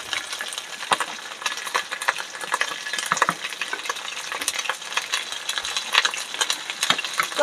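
Chopped ginger frying with a little sugar in a pan for khichuri, stirred steadily with a spoon. A continuous sizzle runs underneath close, irregular scrapes and clinks of the utensil against the metal.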